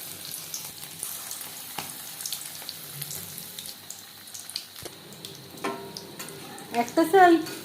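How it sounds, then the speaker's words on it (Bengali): Batter-coated eggs fry in oil on a medium flame for a Bengali egg dish, with a soft sizzle under scattered clinks and handling noises that build into louder bubbling and spattering toward the end. "একটা সাইড ভাজা হয়ে গেলে অপর সাইডটা উল্টে দেব। হাই ফ্লেমে তেল আমি গরম করে নিয়েছি, ভাজবো মিডিয়াম ফ্লেমে।"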